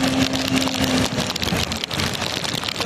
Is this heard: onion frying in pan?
no